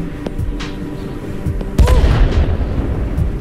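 Explosions and gunfire-like booms from the Worms WMD artillery video game on Nintendo Switch, with a loud burst near the middle followed by rumbling debris over a busy game soundtrack.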